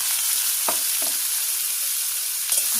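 Vegetables frying in hot oil in a wok, a constant hiss of sizzling broken by a few sharp scrapes of a spatula stirring, close and fairly loud with no voices.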